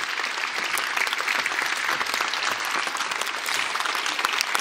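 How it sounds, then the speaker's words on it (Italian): Sustained, dense applause from a theatre audience for students at a commemorative celebration, steady and loud throughout with no break. "Quindi un ultimo applauso ancora ai nostri ragazzi e ragazze."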